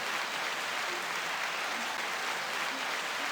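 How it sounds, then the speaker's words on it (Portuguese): Steady, dense audience applause following a talk on theology, a continuous wash of many hands clapping at even loudness throughout with no voices over it. "vou dar uma salva de palmas para isso."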